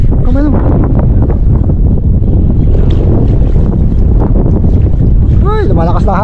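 Strong wind roars over a small fishing boat at sea, a constant loud buffeting rush across the whole clip, with people talking and shouting over it and brief whistle-like calls near the end.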